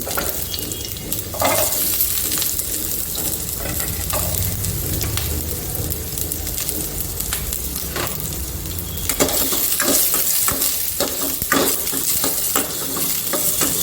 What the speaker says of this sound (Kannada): ಸ್ವಲ್ಪ ಬೆಳ್ಳುಳ್ಳಿನ ನಾನು ಎಣ್ಣೆ ಹಾಕಿ ಫ್ರೈ ಮಾಡ್ಕೊತೀನಿ